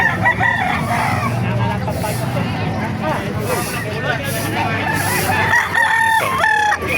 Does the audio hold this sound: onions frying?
no